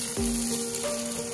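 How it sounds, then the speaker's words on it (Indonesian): A tamarind and tomato sauce sizzles in a pan as it is stirred and brought to the boil, giving a steady low bubbling with a few brief scraping strokes and no talk. "Oke, biarkan dia sampai mendidih."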